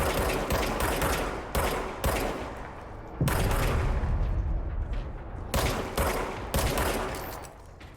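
Sustained gunfire from the video game Control, dense loud bursts of rapid shots broken by a few short pauses, with no talk over it.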